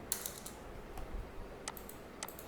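Light typing on a computer keyboard, a few soft, quiet keystrokes spread irregularly over a couple of seconds, with no voice over them.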